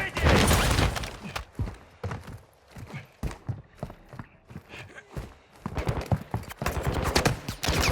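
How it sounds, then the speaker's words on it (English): Rapid gunfire bursts from Call of Duty: Modern Warfare II on the Vondel map, loud volleys at the start and end with scattered sharp shots between, under game noise. "I'm taking effective fire!"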